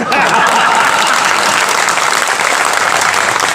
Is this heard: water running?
no